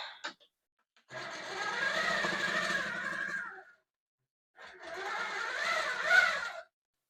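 Sewing machine stitching pillow sham fabric in two bursts of steady whirring, each a few seconds long with a short pause between, heard up close with no talk.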